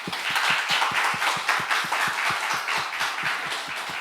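Church congregation clapping together during an anniversary thanksgiving service, a steady rhythmic unison beat of many hands, full and continuous throughout in a large room.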